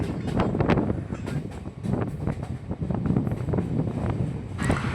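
A local commuter train on the Kolkata circular railway runs on rails toward Tollygunge station, with a loud continuous rumble and repeated rhythmic wheel clacks close by.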